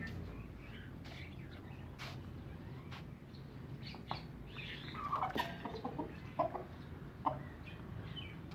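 Chickens cluck in scattered, faint bursts with a few sharper calls, heard at a distance over a steady background hiss.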